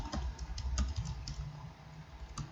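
Text typed on a computer keyboard in the nano editor on Linux, a quick run of close, crisp key clicks at an uneven typing rhythm, with no one speaking.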